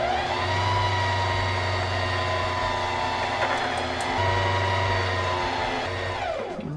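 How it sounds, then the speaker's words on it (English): A Singer HD6380M sewing machine winding its bobbin, a steady close motor whine that holds evenly and then winds down at the end. "now I'm going to press on the pedal underneath to wind the bobbin."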